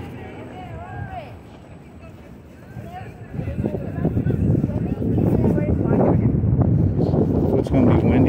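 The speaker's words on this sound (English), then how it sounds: "So it's going to be windy and cold up here." Wind roars across the microphone on the high bridge over the River Douro, growing steadily louder and gustier after the first few seconds, with a voice talking underneath.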